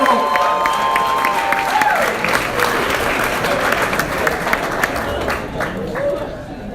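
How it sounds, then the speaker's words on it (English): Audience at a Moth storytelling competition applauding and cheering, a full room of sustained clapping with some shouts and a voice briefly calling out above the crowd. "Big round of applause for Nate."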